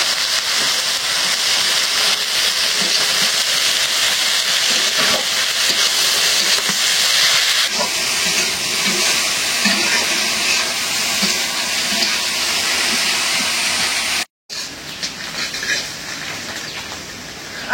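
Potatoes frying in a pan make a loud, steady sizzling hiss for most of the stretch. It cuts out briefly near the end, then returns, with no talking.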